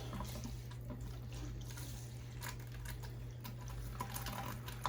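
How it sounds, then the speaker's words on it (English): A bulb-type aquarium gravel siphon on a small Fluval Flex 15 tank runs water steadily into a bucket, a soft continuous trickle and wash with a low hum underneath and no talking. "You can hear it has started the siphon."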